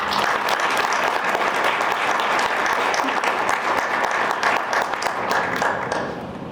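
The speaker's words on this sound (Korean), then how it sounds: "이분들한테 힘찬 박수 좀 부탁드리겠습니다." A crowd at a Korean BNI business networking event gives loud, sustained applause for the members of a chapter, the dense clapping holding steady before easing off near the end.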